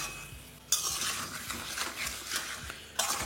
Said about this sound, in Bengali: মশলাটাকে দিয়ে আপনাদের কষিয়ে নিতে হবে